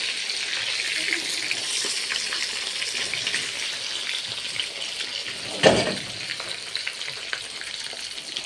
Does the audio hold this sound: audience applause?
no